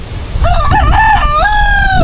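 One loud, close rooster crow rises and holds for about a second and a half, ringing clearly over a low rumble.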